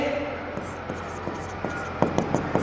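Chalk or marker scratches across a board in short, repeated strokes during an accounting lesson, with taps and squeaks growing sharper near the end over a room hum.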